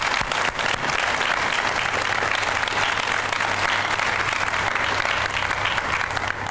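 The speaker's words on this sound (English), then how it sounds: "So I'd like to, all of us, give her a round of applause." Audience applause at a university student center ribbon cutting in St. Petersburg, a dense, steady round of clapping from a crowd that holds loud and even throughout.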